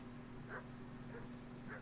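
Dogs in Kingdom Come: Deliverance give three short, faint barks or yips spaced about half a second apart, set against a low steady hum of game ambience.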